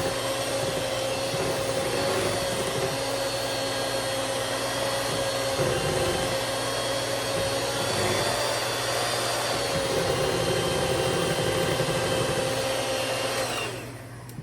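Electric hand mixer beating cupcake batter, a loud continuous motor whir with a steady mid-pitched whine and slight variations as the beaters move, cutting off at the end.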